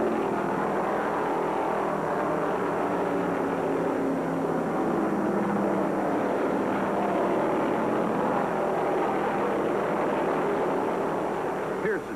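Stock cars racing at the 1973 Daytona 500 on the high-banked oval, a steady loud engine roar that holds throughout without breaks, with a commentator's voice running over it.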